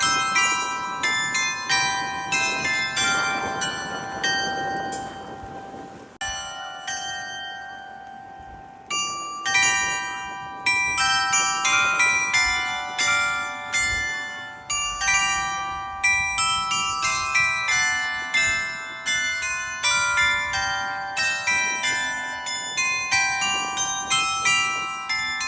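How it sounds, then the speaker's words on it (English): A carillon plays a noon bell concert over the market square in Goslar, its many tuned bells ringing a continuous melodic pattern of struck, ringing tones, with a short pause near the start and a steady rhythmic flow after. "we're here for a bell concert"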